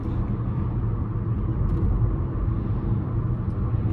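A 1.2-litre turbocharged three-cylinder engine in a 2025 Chevrolet Trax 2RS pulls under acceleration, heard as a steady, dense low rumble from inside the cabin with road noise, holding level and close throughout.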